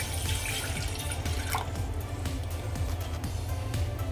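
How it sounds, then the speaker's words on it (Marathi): Water being poured into a pan holding a bowl of sugar, a steady close trickle and splash with a few dripping knocks, no voices. "त्यामध्ये मी आता पाणी घालते"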